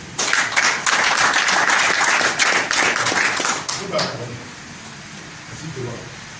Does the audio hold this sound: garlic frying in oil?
no